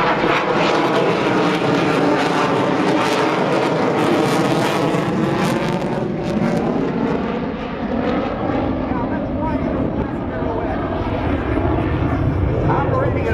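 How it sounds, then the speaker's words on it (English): An aerobatic airplane's engine roaring loud and continuous through a slow, high-angle flat pirouette, the pitch wavering and sagging midway as the plane rotates, with a commentator's voice running beneath. "he's going to rotate the aircraft about 180 degrees while in a nearly flat attitude"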